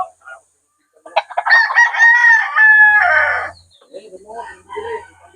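A backyard-bred gamefowl rooster crows once, loud and close, in a long ringing call, with short clucks and a voice talking afterward.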